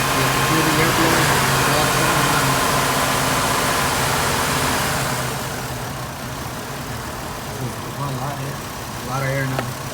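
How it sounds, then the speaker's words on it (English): A 2004 GMC Envoy 4.2L engine with its fan clutch engaged, pushing a steady loud rush of air that eases off midway to a lower, steadier hum as a voice speaks over it. "You can hear the air blowing."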